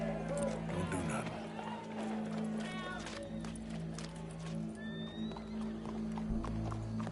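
Horse hooves clip-clop and a horse whinnies in Red Dead Redemption 2, a steady run of hoofbeats with a brief neigh, heard under ongoing game dialogue and crowd ambience.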